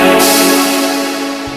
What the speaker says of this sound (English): The original sample is just a chord,